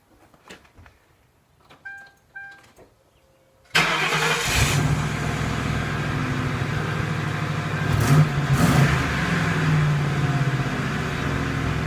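A few faint clicks, then a car engine roars to life and revs loudly, settling into a rumbling idle with occasional throttle blips, no talking.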